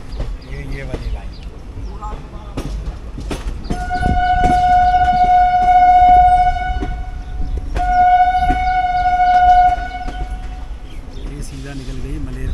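A passenger train running on the Bathinda line, with rumbling wheels on track and two long, steady horn blasts sounding near, the first from about 4 to 6.5 seconds and the second from about 8 to 10.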